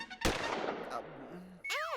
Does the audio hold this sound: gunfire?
yes